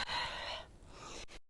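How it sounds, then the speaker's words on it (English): A forceful breathy exhale while sitting up during a back and core workout, a close rushing breath of over a second with a short second puff at the end. "Nice exhale as you come up."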